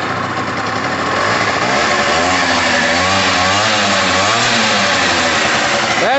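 Gilera DNA 125 two-stroke scooter engine catching and then idling, a loud, close, buzzy rattle with a wavering, uneven pitch that holds steady throughout, with no talking.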